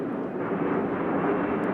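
In a Lego animation, an airplane taking off gives a steady, loud, broad engine roar that holds evenly throughout, with no voices.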